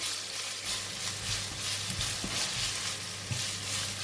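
Minced pork frying in a little oil in a pan, a steady, close sizzle running throughout, with faint stirring and scraping noises over it and no talk.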